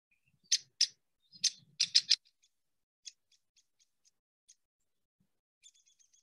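Downy woodpecker calls: a few sharp separate notes, then a quick descending burst of squeaky notes like a tiny horse whinny, followed by scattered faint single chips, clear and alone with no talk.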